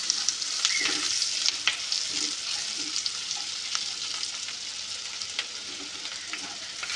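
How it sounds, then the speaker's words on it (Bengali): Sliced onions fry in a pan with a pinch of salt, giving a close, steady sizzle with occasional crackles and stirring taps, and no voices over it. "তাড়াতাড়ি ভাজা হওয়ার জন্য একটু লবণ দিয়ে দিলাম, যাতে পেঁয়াজগুলো তাড়াতাড়ি ভাজা হয়ে যায়।"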